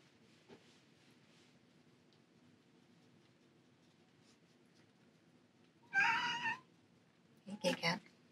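Domestic long-haired cat meowing twice in a quiet room, one fuller meow followed by a shorter, choppier one, fairly close over faint background rustle.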